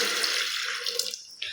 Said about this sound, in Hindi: अब इसमें पानी डालकर